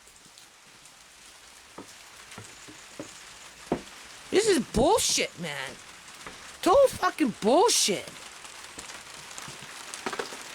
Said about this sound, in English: Oh, can you hear the rain pick up?